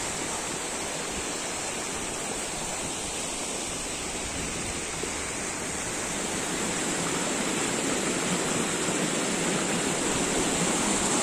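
A large waterfall in the Uch-Kosh gorge roars in a steady, dense, loud rush of falling water that continues unbroken throughout, with no voices.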